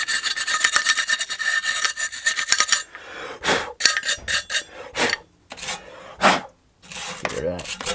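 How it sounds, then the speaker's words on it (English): A wire brush scrubs accumulated rust from a part of a vintage Honda EX500 generator, giving a loud, steady raspy scraping that breaks into short bursts of separate strokes with brief pauses between them. "There's a wire brush. Let's give that a bit of a"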